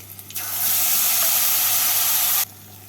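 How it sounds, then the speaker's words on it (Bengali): Spice paste hits hot oil tempered with nigella seeds and green chilli, setting off a loud, sudden sizzle. The sizzle holds steady for about two seconds and then cuts off sharply, with no talking over it. "এবার এর মধ্যে মিশিয়ে রাখা মশলার পেস্টটাকে দিয়ে দিচ্ছি"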